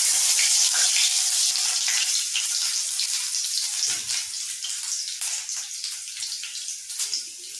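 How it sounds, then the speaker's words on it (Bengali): Garlic drops into about two tablespoons of hot oil and fries with a steady, bright hissing sizzle, loud and close, fading slightly over several seconds. "তেলের মধ্যে আমরা ফার্স্ট দিচ্ছি রসুন,"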